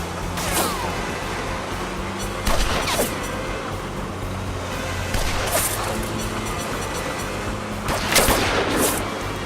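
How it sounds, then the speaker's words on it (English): Gunfire in the video game Lost Horizon: several sharp shots ring out at irregular intervals over a steady rumbling ambient bed, a couple of them louder and closer, with no talking. "Somehow he missed me. He shot the bamboo clean in half."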